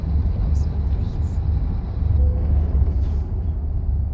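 Mack R Series truck with a 280 HP engine in American Truck Simulator, giving a loud, steady low rumble that fills the whole stretch with a few faint high hisses on top.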